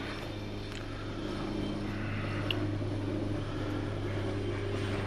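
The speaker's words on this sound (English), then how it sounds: "Excuse the helicopter." A steady engine drone hums in the background, low and continuous, like a helicopter passing at a distance, with no talking.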